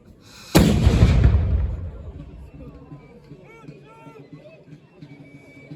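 One heavy boom from a Hirtzenberg cannon at a reenactment of the 1793 assault on Arlon, Belgium, bursts loudly and rolls off over a couple of seconds, leaving crowd chatter and distant voices behind it.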